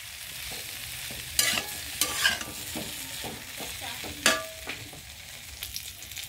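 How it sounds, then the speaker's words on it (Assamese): Cauliflower and potatoes frying in a pan give a soft, steady sizzle, broken by several sharp scraping clicks as a spatula stirs and knocks against the pan, close and fairly quiet with no talking. "ফুলকবি আৰু আলুখিনি মই ইয়াতে সিজাই ল'ম ভাজি ভাজি।"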